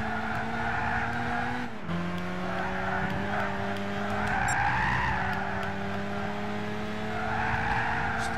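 A race car drifts with long, continuous tire skidding and squeal over a steady engine drone in Gran Turismo 6, the engine pitch shifting as the car slides through the corner, loud and close with no talking.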